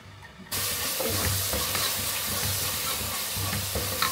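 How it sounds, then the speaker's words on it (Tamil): Chopped onions for mutton biryani dropped into hot oil in a pan, a sudden loud sizzle that starts abruptly and keeps up as a steady close hiss with occasional stirring scrapes. "ஸோ ஸ்ட்ரெயிட்டாக ஆனியன் ஆட் பண்ணிடலாம். இந்த ஆனியன் கட் பண்ணது, சாப் பண்ணது ஆட் பண்ணிடுறேன்."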